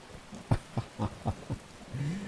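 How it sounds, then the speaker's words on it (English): Rain falls in Skyrim, a steady soft hiss broken by several distinct heavy thumps in quick succession, then a low droning swell at the end, with no talking. "It's still raining."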